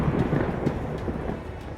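Thunder from a lightning strike rolls as a deep, sustained rumble with no sharp crack, moderately loud and alone, with no voices.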